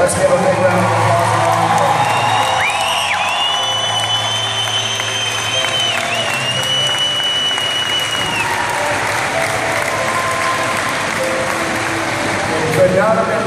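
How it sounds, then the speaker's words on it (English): A concert audience at Minot Air Force Base applauds and cheers loudly for the band, with sustained dense clapping and whoops and whistles rising above it, filling the whole stretch. "So let's give a big round of applause."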